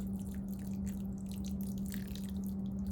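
Clay water poured slowly onto soil for planting bare-root strawberries, heard as a soft continuous trickle with scattered drips over a steady low hum, close and quiet, with no talking.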